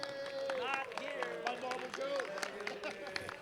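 Applause from a tournament crowd at a Super Street Fighter II Turbo top-eight event, steady mid-distance clapping mixed with cheering voices and talk throughout.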